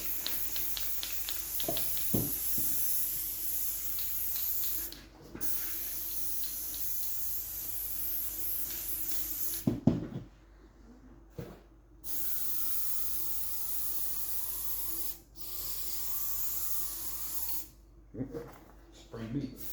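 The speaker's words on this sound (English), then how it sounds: "And now I'm going to go with a different spray." Bursts of close, loud hissing from an aerosol adhesive spray used on a Triumph Spitfire seat cover come in several long blasts separated by short pauses, with intermittent knocks and clicks between them.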